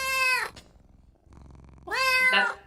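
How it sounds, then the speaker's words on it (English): A tabby-type house cat meows twice, close and loud, with a quiet pause between the two drawn-out calls. "And Lisa, don't interrupt the cat."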